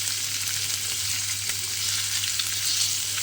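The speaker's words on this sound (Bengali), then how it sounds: "মাছগুলো কিন্তু উল্টিয়ে পাল্টিয়ে লাল লাল করে একটু ভেজে নেব।" Katla fish pieces frying in oil, turned until reddish: a steady, fairly quiet hiss and crackle of hot oil, close and continuous with no voices.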